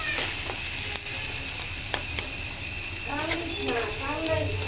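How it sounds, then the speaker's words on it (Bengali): Onions fry in a pan with a steady, broadband sizzle, mixed with occasional clicks and scrapes, while a voice speaks faintly in the background near the end. "এই যে এখানে আমি পেঁয়াজগুলো ভেজে নিচ্ছি।"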